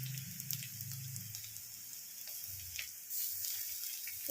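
Garlic sizzling and frying in hot oil in a home kitchen pan for mixed fried rice, a steady crackling hiss with faint stirring ticks, fairly quiet and with no voices.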